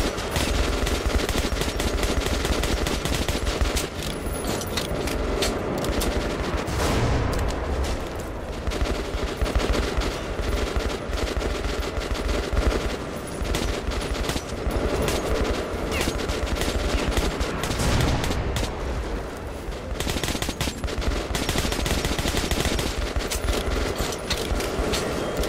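Sustained automatic gunfire in the Metro Last Light Redux shooter, loud and continuous machine-gun bursts during a fight against a tank, with barely any pause across the whole stretch.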